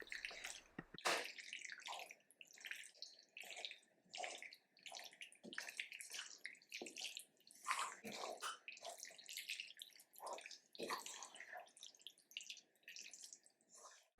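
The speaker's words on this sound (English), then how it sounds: "you need to hear what mac and cheese sounds like" Wet, squelchy stirring of thick browned butter roasted garlic mac and cheese, a steady run of sticky, slapping squishes close to the mic with no talking.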